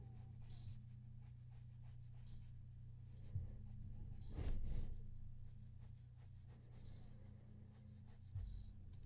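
A graphite pencil shades across paper with steady, soft scratching strokes. A louder stroke lands near the middle, and a few brief taps are heard. The sound is faint and close, with no speech.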